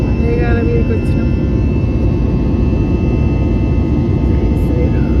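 Steady, loud airplane cabin roar during a flight from Philadelphia to Austin in bad weather, climbing through clouds; a dense, continuous broadband rumble with a faint steady hum, no speech.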